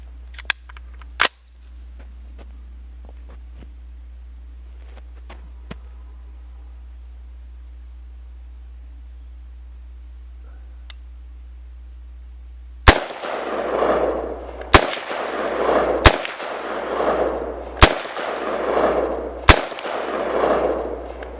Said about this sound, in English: Well, let's see if I can shoot it.